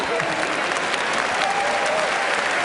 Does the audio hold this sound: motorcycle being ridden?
no